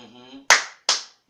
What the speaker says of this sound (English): Give yourself the love clap.